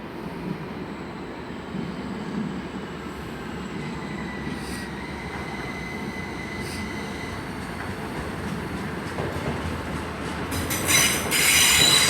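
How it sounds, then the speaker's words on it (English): Terminating Heathrow Express train arriving at London Paddington station, a steady rolling rumble with faint wheel squeal, louder hissing brake sounds near the end. "Coming in here is a terminating Heathrow Express service"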